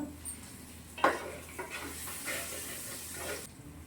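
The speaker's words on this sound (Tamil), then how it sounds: "மஞ்சத்தூள் போட்டேன். நல்லா போட்டு பெரட்டிட்டு நல்லா வதங்கணும்." Turmeric masala being stirred and sautéed in a pan for a village-style fish curry, a soft steady sizzle with a spoon scrape near the start, fairly quiet and without talk.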